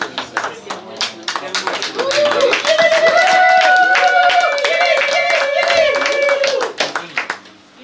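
An audience at a public event presenting a government minister of vocational training claps in a rhythmic, close burst that swells and then fades, with a loud sustained voice crying out over the clapping.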